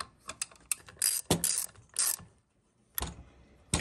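A ratchet wrench works around the clutch bolts of a 66/80cc motorized bike engine, producing close bursts of clicking, with a brief quiet pause midway.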